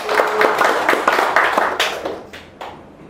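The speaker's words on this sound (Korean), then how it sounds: "맞다고 생각하면 박수 한번 쳐보세요" An audience at a lecture claps in a brief burst of hand claps that thins out into a few scattered, separate claps before fading away.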